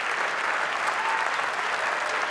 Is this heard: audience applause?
yes